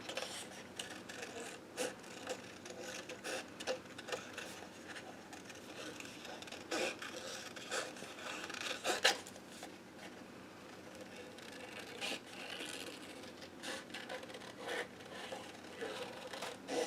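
Cardstock being cut around a design, leaving a black border: faint, close, continuous rasping and scraping with small irregular ticks over about seventeen seconds, no voices.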